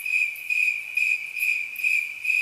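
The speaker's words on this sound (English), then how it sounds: "Crickets." Crickets chirp in a steady, high-pitched trill that pulses in roughly half-second bursts, close and clear with no other sound.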